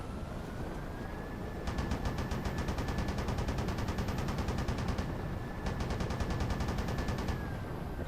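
Rapid automatic weapon fire from a modded Lich vehicle in Halo 3: two long bursts of fast, evenly spaced shots over a constant roaring background hum and a faint high whine.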